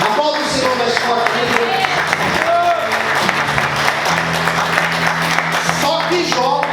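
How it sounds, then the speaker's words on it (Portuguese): A church congregation applauds in a steady, dense wash of clapping with voices mixed in, loud and continuous through the whole stretch. "Aplauda o Senhor mais forte"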